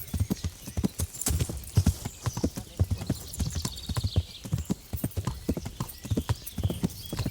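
Horse hooves clip-clop in a steady, close rhythm along a path in Kingdom Come: Deliverance, a medieval role-playing game, with a brief whinny and no talking over the hoofbeats.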